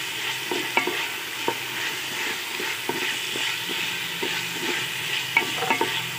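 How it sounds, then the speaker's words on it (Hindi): Rice being fried and stirred in a pan while making kheer, a steady soft sizzle broken by light scraping stir strokes at an irregular rhythm, close and moderately quiet throughout. "थोड़ा सा चावल ब्राउन करेंगे"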